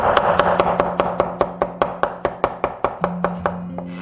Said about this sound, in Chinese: 1小块生姜，拍碎切末。